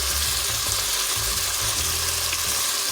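Beef cubes brown in a pot over medium-high heat, giving off a loud, dense, continuous sizzle close up with no break; no talking.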